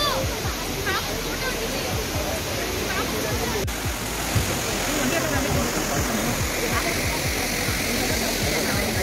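Abbey Falls waterfall in Kodagu pours with a dense, steady roar heard up close and loud throughout, while a person speaks over the rushing water.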